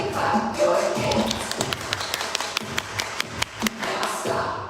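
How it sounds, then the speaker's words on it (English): A group clapping hands along with a virtual Vacation Bible School activity, sharp claps ringing out in a steady rhythm through the middle of the stretch over a low murmur of background noise. "And everybody clap your hands."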